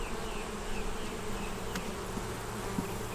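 Honey bees hum densely at an open hive that is nearly honey bound, a steady close buzzing swarm sound with a few individual bees passing near.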